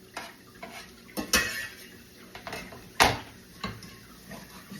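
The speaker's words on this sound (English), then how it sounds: "we're just gonna add a little bit more olive oil and then add in 1 chopped Vidalia onion" Chopped Vidalia onion going into a pan with chicken drippings and olive oil, heard as scattered clinks and scrapes of a utensil against cookware, with a few sharper knocks and no talking.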